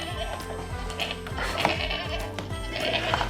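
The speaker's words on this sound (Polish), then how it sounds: "Co to za zwierzę? Koza." Goat bleating played back through a Kakadu interactive pen book for children, with several wavering bleats in quick succession at moderate volume over a steady low background hum.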